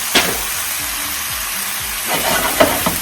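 Food fries over a turned-up flame, with a steady close sizzle, occasional crackles and a few utensil taps toward the end.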